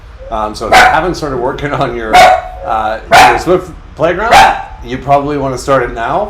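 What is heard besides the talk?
dog barking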